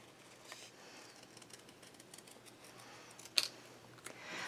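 Scissors snip paper for a craft pattern in a quiet room, giving one sharp close cut and a few fainter snips with no talk.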